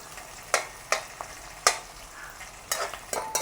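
Onions sautéing in a pan with a spoon, ahead of leeks going in for a chicken aval kothu. Several sharp scraping stir strokes cut through a soft, steady sizzle, close and clear, with no talking.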